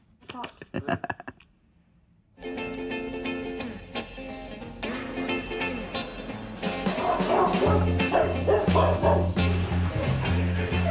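Prison search dogs bark and yap repeatedly on a jail wing during a contraband sweep. The barking is close and loud, and people talk and other noise are mixed in around it.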